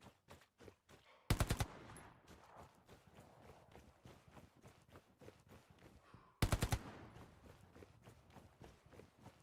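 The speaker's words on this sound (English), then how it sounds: "just let off a couple of rounds as you move through the environment" Gunfire in the video game Hell Let Loose, two short bursts of rapid automatic fire, loud and close, set against steady rhythmic footsteps of a soldier moving through the environment.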